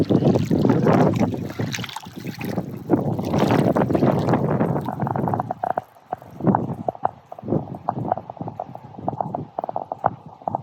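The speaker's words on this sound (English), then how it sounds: "Apologies for the wind" Strong gusts of wind buffet the microphone outdoors on a high, cold property with a gravel driveway. Loud rumbling bursts come first, then the wind eases into choppier, intermittent gusts.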